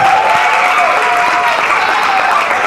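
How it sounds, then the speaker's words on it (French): Wedding guests applaud at a civil ceremony, a dense, steady wash of clapping that fills the whole moment at close range, with a faint voice briefly audible beneath it. "Applaudissez, s'il vous plaît."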